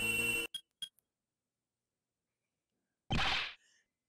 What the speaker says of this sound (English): That sound! That's her cell phone.